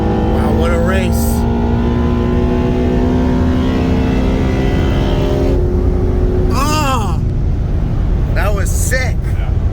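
A 2018 BMW X6M with bolt-ons on E50 racing a 2016 Ford Mustang GT with heads and cams on E85 from a 40 mph roll, loud engines roaring steadily under full throttle, with people talking over the noise.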